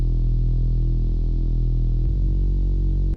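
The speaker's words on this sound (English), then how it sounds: "the only thing I added is a Reese bass." Thick, distorted Reese bass drone under a song outro, sustained and loud, shifting to a pulsing pattern near the end before cutting off.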